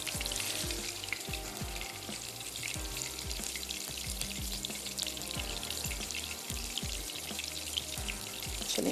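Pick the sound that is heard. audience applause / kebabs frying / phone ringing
kebabs frying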